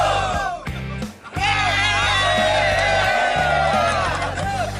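Crowd at an off-road event shouting and cheering loudly together, with a brief dip before the roar resumes, a voice shouting over the din and a steady music beat underneath.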